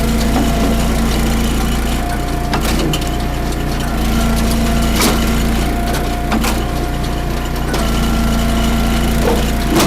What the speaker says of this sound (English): With a good straight wood, you really don't need to run the splitter all the way down through